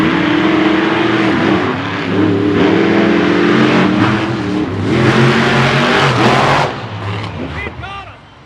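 At a 2021 Renegade drag racing event in Marietta, race cars launch and accelerate hard down the track. Their engines roar loudly and steadily for several seconds, then fade as they pull away.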